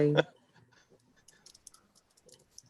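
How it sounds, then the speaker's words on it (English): Soft, close keyboard taps and clicks come while an email is typed on a computer keyboard, sparse and light after a brief burst of voice at the start. "Sorry, I'm typing an email."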